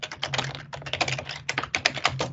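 Fast typing on a computer keyboard during computer configuration work: dense, close clusters of keystroke clicks in uneven bursts, with one brief pause midway and no talk.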